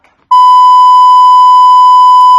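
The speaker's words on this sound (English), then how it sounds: "Oops, hold on, my battery's about to die." A steady electronic beep around 1 kHz with bright harmonics starts after a brief pause and holds loud and unbroken for about two seconds, a phone's low-battery warning tone sounding alone.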